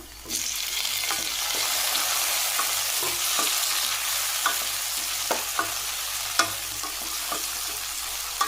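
Tomatoes and sautéed onions fry in a pan for a yam curry, a loud, continuous sizzle with scattered clicks and scrapes of stirring close by.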